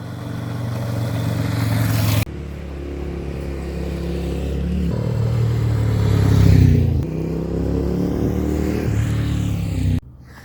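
A motorcycle ridden on a Tasmanian road, engine pulling hard through several gear changes with abrupt cuts between stretches, rising revs and clattering mechanical noise under steady wind rush, loud and close throughout.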